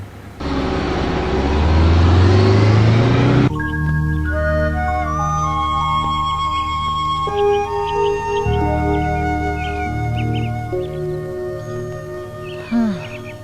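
A bus engine rumbles loudly and close for about three seconds before giving way to music; the bus was reported as having needed repair.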